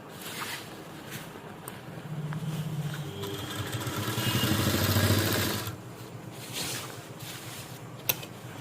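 A sewing machine stitches the back neckline of a kurti along the very edge, with the binding strip folded in. Its motor hum swells steadily for about three seconds and then stops, with no talking.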